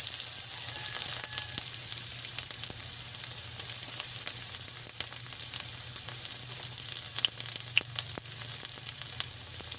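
Onions sizzle steadily in hot oil with ginger for a sardine dish, a dense continuous crackle with scattered sharper pops, close and fairly loud with no voices.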